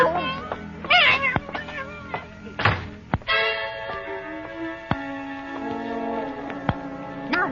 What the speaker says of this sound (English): She's meowing and stamping around here like a herd of elephants